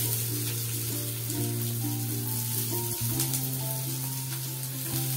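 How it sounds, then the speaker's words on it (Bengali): Chopped onion sizzles steadily in hot oil in a pan, a continuous close frying hiss with faint stirring, cooked as the filling for aloo paratha. "পেঁয়াজটা আমি একটু দিয়ে দেবো তেলের মধ্যে"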